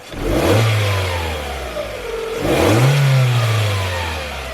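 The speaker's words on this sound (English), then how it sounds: "let's rev up the engine" A car engine revs up twice, rising and falling in pitch each time, loud and close with no voices.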